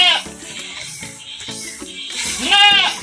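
A goat being fed cassava leaf silage bleats loudly and close several times in a row, with a long wavering cry toward the end.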